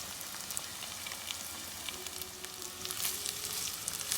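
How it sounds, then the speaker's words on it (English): Chopped red onion fries in a pan with garlic and ginger, making a soft, steady sizzle with light crackling that rises slightly near the end, no voices heard. "To this I'm adding chopped red onion, 1 cupful of red onion."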